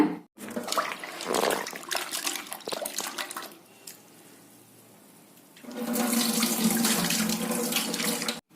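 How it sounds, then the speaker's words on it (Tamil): Jackfruit seeds are washed by hand under a running kitchen tap. The water gushes and splashes nearby, then drops to a quieter trickle for about two seconds before surging loudly again, with no talking. "அடுத்தது பலாக்கொட்டை கழுவிடலாங்க"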